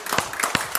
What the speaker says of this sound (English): Give him a hand clap right now